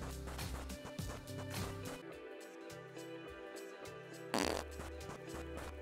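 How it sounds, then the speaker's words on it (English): A video game character farts repeatedly while walking through a mushroom-filled area, the wet, low bursts recurring over a steady game backdrop, with one louder, sharper blast near the end. "Do you think they're happy about having to smell your farts as you walk?"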